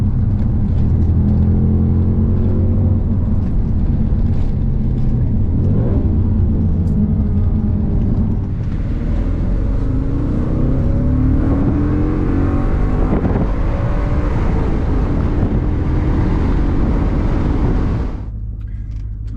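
Audi B7 RS4 with its high-revving engine roars loud and close, pulling through rising and falling revs in several sweeps before cutting off abruptly near the end.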